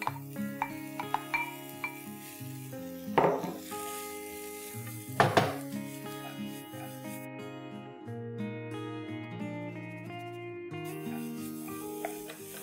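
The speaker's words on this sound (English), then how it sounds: "Time to add in the cut radish and its leaves." Cut radish and its leaves sizzle in refined sunflower oil in a pan, a steady close fry with a couple of sharp clatters as they are stirred, under soft background music.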